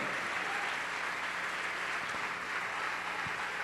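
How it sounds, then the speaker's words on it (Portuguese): A church congregation claps together in praise to the Lord. The dense, even applause holds steady and fills the room for a few seconds with no voice on top of it. "Vamos aplaudir mais ao nome do Senhor."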